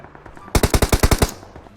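Automatic weapon fire in PUBG Mobile, a rapid burst of about eight loud, evenly spaced shots lasting under a second, breaking a quiet background.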